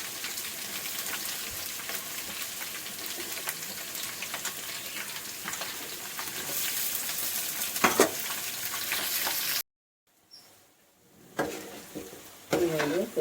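Onions sizzling and frying in a pan, a steady loud crackle with occasional stirring scrapes, broken by a brief pause before the sizzle resumes in bursts.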